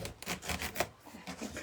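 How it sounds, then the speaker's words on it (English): A knife cutting a spaghetti squash in half, giving repeated scraping, rasping strokes as the blade works through the hard rind, steady and close with no voices. "you want to take your spaghetti squash and you're going to cut it in half"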